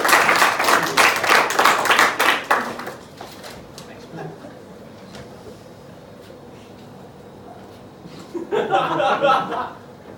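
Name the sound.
audience applause for Simon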